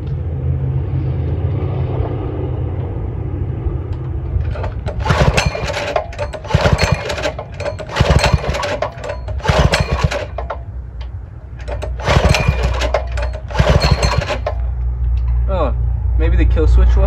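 A Predator 212cc small engine on a budget minibike build cranks and fires up, revving in loud bursts with short dips between, under a steady low idle rumble, close to the microphone.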